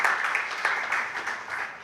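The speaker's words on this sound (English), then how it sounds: "we should give a round of applause again for achievements" A seminar audience claps in steady applause at a 40th anniversary celebration and accountability event, a dense, even patter of hands that carries through the whole moment without speech.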